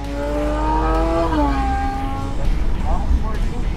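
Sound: sports car engine accelerating

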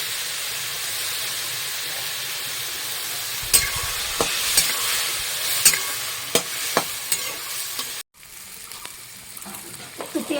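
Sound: stirring spices and onions frying in a pan

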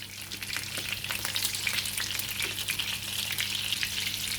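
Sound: frying meat cutlets in a pan

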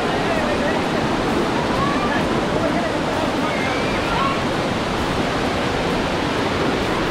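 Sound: waterfall in Sandhan Valley

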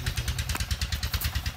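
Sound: motorcycle engine

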